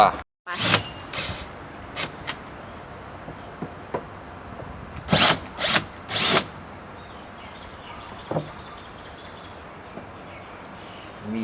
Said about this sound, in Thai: ต้องใช้บล็อกนะครับ นี่ก็มาถอดฝา ฝาครอบบน มีน็อตสี่ตัว